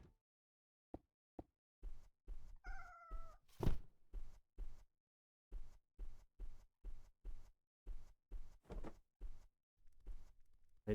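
A cat meows once in the horror video game Cineris Somnia, a short rising cry set among a regular series of soft thudding, footstep-like knocks in an otherwise quiet scene.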